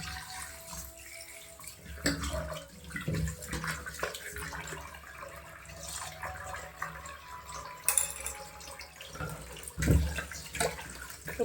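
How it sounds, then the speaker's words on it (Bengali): Fish being washed under running water at a kitchen tap, with a quiet, steady splash and trickle and occasional louder sloshes and knocks, and no talking. "এখন মাছগুলো ধুয়ে নেবো।"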